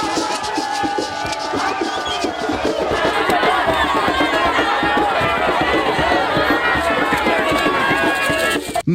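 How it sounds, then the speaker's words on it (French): A jubilant crowd in Bukavu waits on the shore for the boat Emmanuel 4 to dock, a dense, steady roar of many voices and movement that stays loud and close throughout. "une foule en liesse attend l'arrivée de cette bienfaitrice"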